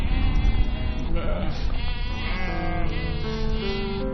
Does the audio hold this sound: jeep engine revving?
no